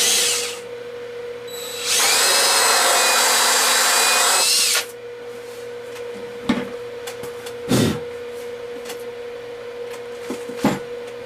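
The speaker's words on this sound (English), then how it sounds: "And then just drill a 1-inch hole." A power drill whirs loudly for a few seconds boring a 1-inch hole into a foam pumpkin, then stops; a few light knocks and handling sounds follow.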